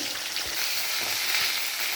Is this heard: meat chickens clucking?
no